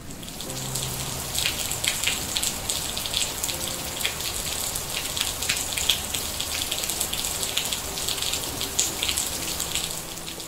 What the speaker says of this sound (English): Very soon, Cloud made a strong rain shower that fell everywhere.